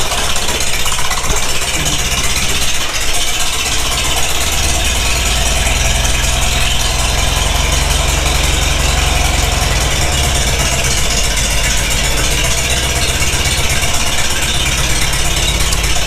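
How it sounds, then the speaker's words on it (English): A gas-powered tractor engine idles steadily and loudly close by, with a constant low rumble and a faint rattle throughout, and no voices. "Gas tractors are nice for the fact that they pretty much just fire up and go"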